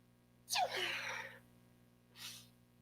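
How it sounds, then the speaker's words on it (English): A single sneeze bursts out loud and close, with a sharp inhale and spray lasting about a second, followed by a shorter, softer exhale or second sniff a moment later over a steady low hum. "I have to sneeze"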